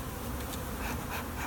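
Honeybees swarm out in a steady, dense buzzing as the top is lifted off their hive, a close and continuous drone that holds evenly for the whole moment.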